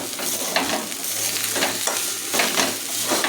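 Food frying in a pan crackles in a loud, continuous sizzle close up, with regular stirring scrapes roughly every half second and no talking.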